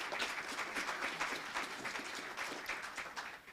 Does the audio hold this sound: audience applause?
yes